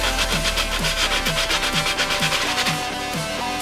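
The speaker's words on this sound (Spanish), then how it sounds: "Este momento en el que los botellines están aún con la chapa puesta es el mejor para lijar el logo, para quitárselo. Así que cogemos un papel de lija y a darle." Sandpaper rubs back and forth across a capped glass beer bottle to remove its printed logo, making rapid rhythmic scraping strokes over a loud background of music.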